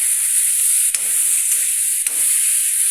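Tomato fries in a pan for a lady finger (okra) curry, a loud, steady sizzle broken twice by brief stirring scrapes as the mixture is moved around.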